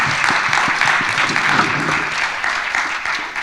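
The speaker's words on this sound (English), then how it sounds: "Let's give one more round of applause to Taffy Brodesser-Akner and A.O. Scott." An audience at a book festival author event in New York gives a sustained round of clapping. The applause is dense and even, filling a room at close range for several seconds with no voice over it.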